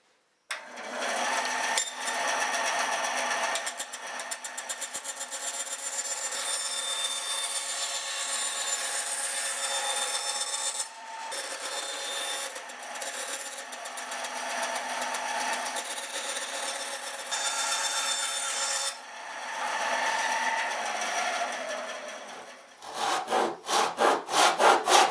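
Steady back-and-forth sawing through wood while trimming a tenor ukulele blank to its taper, with long continuous rasping strokes close by, brief pauses, and a quicker burst of short strokes at the end; no talking.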